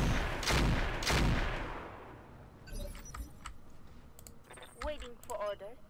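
Mech weapons fire in the Roguetech video game: two loud broadband blasts early on, fading into a decaying rumble, followed by clattering mechanical effects and tonal game sounds toward the end.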